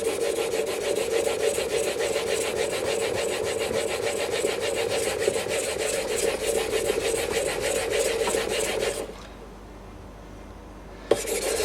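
A steel bench plane iron rubbed back and forth on a waterstone to hone a 30 degree secondary bevel, giving a steady rhythmic gritty scraping, close and continuous, then a short quiet pause and a single tap.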